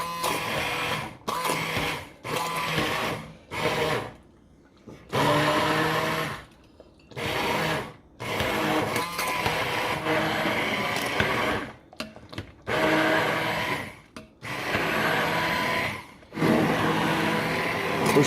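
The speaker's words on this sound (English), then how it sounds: "we're going to take the immersion blender" Immersion blender grinding cooked apples with their peelings for apple butter, a loud close motor whine in repeated bursts of a few seconds separated by brief pauses.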